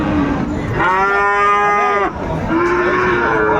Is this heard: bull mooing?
yes